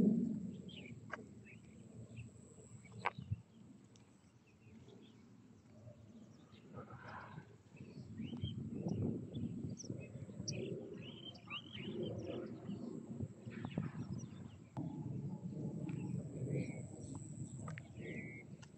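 Noisy birds calling around a village farm area with buffalo, a busy mix of faint chirps and calls over a low, rumbling outdoor background that swells in the second half.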